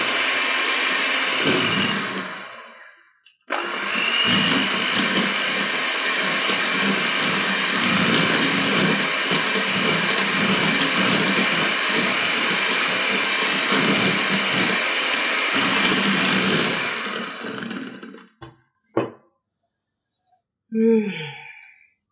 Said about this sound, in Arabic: أضيف بوريه المانجا وأضربه ضربة سريعة كده لحد بس ما يمتزج مع باقي المكونات